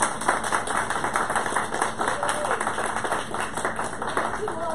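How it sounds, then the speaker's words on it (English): An audience gives a round of applause, a steady rattle of many hands clapping close and fairly loud for several seconds, with voices and some tonal sound mixed in underneath. "I want to give you a round of applause."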